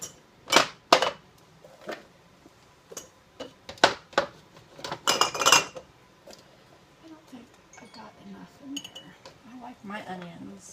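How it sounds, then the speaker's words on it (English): A large metal tablespoon clinks and taps against glass jars while dry beans are spooned in for pressure canning, a series of sharp close clinks and rattles early on, then quieter handling with a voice talking. "I'm just using a regular large tablespoon."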